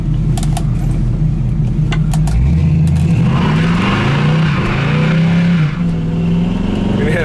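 A 1969 Camaro engine runs loud and close throughout, a steady low rumble with a slight rise in the middle, with faint talk over it at points.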